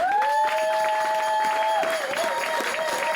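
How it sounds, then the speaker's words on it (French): A church congregation at a Sunday service applauding steadily, with dense clapping throughout, a sustained tone holding over it and then wavering, and light cheering mixed in. "On acclame Dieu très fort"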